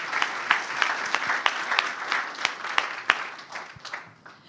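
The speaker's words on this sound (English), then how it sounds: "big round of applause for a CAP manager" An audience at a startup demo day gives a manager a round of applause, dense crowd clapping with sharp individual claps standing out, fading down toward the end.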